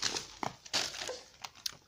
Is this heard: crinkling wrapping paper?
yes